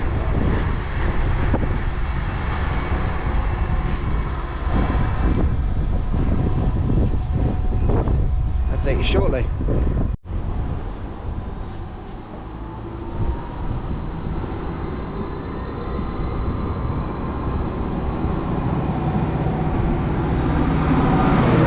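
Train 755334, a quiet passenger unit on a Sunday morning, pulls out of the station with a loud, rumbling roll of wheels on rails and squealing, easing into a fainter, steadier run; a voice speaks briefly near the start.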